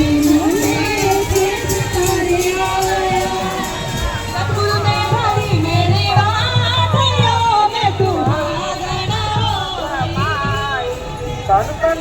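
A dense crowd at a Punjabi festival, a continuous murmur of many voices with a steady low rumble underneath, loud and close throughout with no pauses.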